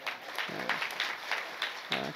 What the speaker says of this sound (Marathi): टाळ्या झालं पाहिजे महाराज.